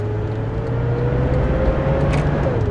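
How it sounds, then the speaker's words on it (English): A truck engine with a broken fan clutch runs loudly and steadily throughout, a constant low droning roar with a faint whine held on top and no pauses. "my truck is loud because the fan clutch is broken"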